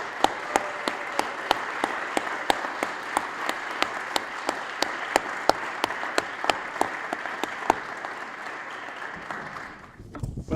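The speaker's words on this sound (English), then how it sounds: "I'd like to begin now with a round of applause to thank them." An audience applauds at a Penn State Berks scholarship event, with steady clapping spread across a room and a few distinct sharp claps standing out, fading near the end.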